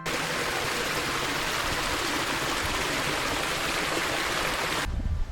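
A small hillside stream runs near a waterfall in Konkan, giving a loud, steady rushing wash of water that stops abruptly just before the end.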